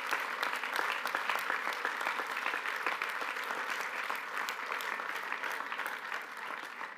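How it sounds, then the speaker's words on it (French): Sustained applause from a large audience at a political closing session, dense and steady clapping throughout, with a faint voice briefly audible beneath it. "applaudissez-vous parce que nous le méritons collectivement et vous le méritez"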